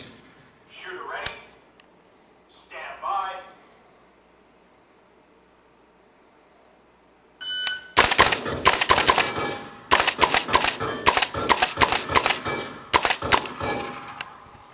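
Rapid rifle fire on a VirTra shooting simulator, loud bursts of sharp cracks in quick irregular succession after a few seconds of quiet talk.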